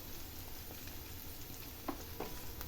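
Ginger paste and freshly pounded garlic fry steadily in oil for a pickle, a continuous close sizzle with a couple of brief sharper crackles near the end.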